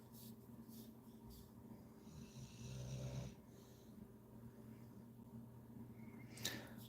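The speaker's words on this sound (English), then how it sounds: "Dog's snoring nicely." A dog snores softly nearby in a quiet room, with slow, low rumbling breaths, one rising louder midway, and a faint clatter near the end.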